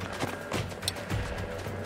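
Horse hooves clip-clopping in the video game Hard West 2, a quick run of soft thuds at close range over a steady background bed, with a faint bright chime partway through.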